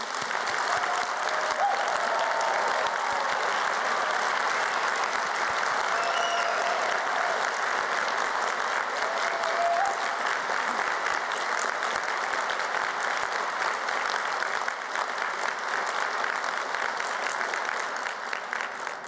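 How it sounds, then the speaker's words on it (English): A large audience applauds graduates at a university degree ceremony in Glasgow, sustained even clapping that carries on at a constant level for the full stretch, heard alone without speech. "giving all of our amazing graduates a huge round of applause"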